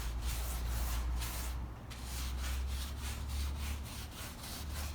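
An old painting's surface is scrubbed with a brush and cleaning emulsion in quick up-and-down strokes. The bristles make a steady, rhythmic rasping close by, pausing briefly in the middle before continuing.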